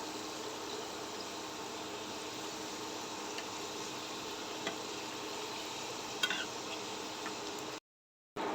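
Steady, faint sizzling of pakon pitha, a Bangladeshi rice cake, frying in hot oil, a continuous hiss with a few soft clicks, briefly cutting out near the end.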